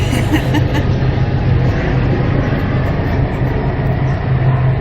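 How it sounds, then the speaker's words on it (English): A train rumbles past close by, a loud, heavy low-pitched roar with rattling wheels that stays strong the whole time. "Wow, if you hear that big noise, that's our train."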